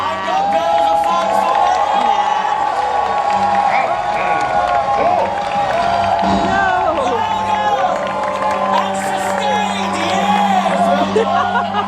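A large theme park audience at a live Disney villains stage show shouts and cheers continuously, a dense, loud crowd roar with whoops and applause under an amplified announcer's voice.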